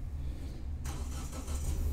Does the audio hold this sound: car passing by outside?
yes